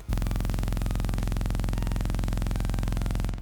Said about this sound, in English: it's only a really low sine wave.